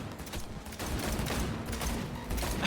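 Continuous chaotic gunfire rattles through a Cyberpunk 2077 car chase, dense overlapping shots layered over roaring engine and road noise, loud and close throughout.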